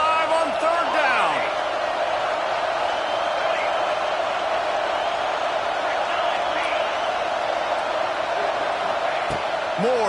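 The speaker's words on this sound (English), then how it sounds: "The Buckeye crowd alive on 3rd down." Stadium crowd in a college football video game with a Buckeye home crowd, a steady roaring wash of cheering held at constant loudness throughout, with no words spoken.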